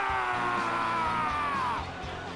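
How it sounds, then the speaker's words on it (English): Crowd in the WWE 2K20 wrestling video game yelling and cheering, a sustained rising roar with a long held whoop that fades toward the end, under faint background tones. "at least we get to hear them scream"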